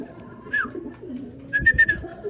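Pigeons coo during recall training, two short, soft, throaty calls close by, with no talk.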